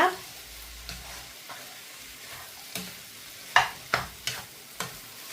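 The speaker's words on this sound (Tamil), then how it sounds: "இப்போ போட்டு எல்லாத்தையும் நல்லா மிக்ஸ் பண்ணி எடுத்துக்கொள்ளுங்க." Sausages and potatoes stirred into noodles in a pan, a faint background sizzle broken by a few sharp scraping clatters of the utensil against the pan, growing more frequent toward the end.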